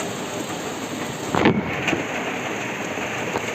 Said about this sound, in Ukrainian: Гримить.